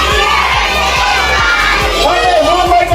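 A crowd of children at a birthday party shouting and cheering together loudly, a sustained group yell with rhythmic thumps underneath, near and energetic.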